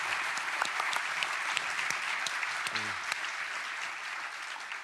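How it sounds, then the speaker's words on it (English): An audience at a European research and innovation conference applauds a panel of speakers with sustained, even clapping that fills the room, with a brief voice faintly audible partway through. "A round of applause for our panelists."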